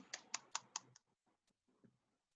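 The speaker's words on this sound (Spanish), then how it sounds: "Ahora, si lo hago con el teclado físico," Fingers tap a physical computer keyboard: four or five crisp, evenly spaced keystrokes, then a few fainter scattered clicks, close and quiet, with no talking.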